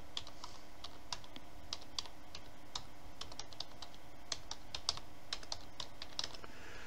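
A web address is typed on a computer keyboard as a quick run of light, close key clicks in an irregular rhythm, with no talk over it.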